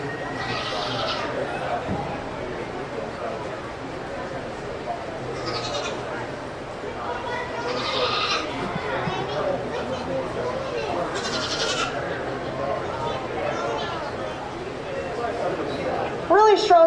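Dairy goats bleat repeatedly in a county fair show ring, several bleats rising above a steady crowd murmur while an announcer speaks over a loudspeaker.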